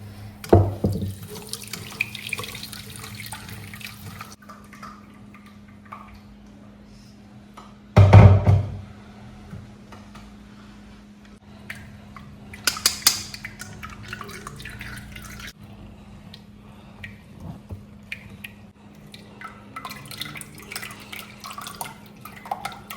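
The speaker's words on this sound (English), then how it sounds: "Just want to do a double sieve to be sure that I get rid of all the particles in it." Spicy West African rice drink poured through a sieve, a quiet trickling and dripping of liquid with a few brief louder splashes and clinks, mostly soft and close.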